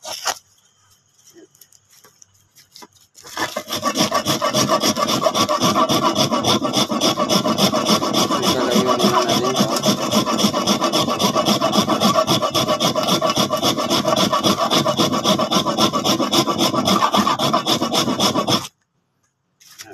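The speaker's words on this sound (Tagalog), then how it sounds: "kinakayad ko ngayon ang isang uh, grilled, grilled salt" A block of grilled, baked iodized salt being scraped: after a few quiet scratches, a long, loud, steady run of rapid rasping strokes, close and harsh like filing stone, stopping abruptly near the end.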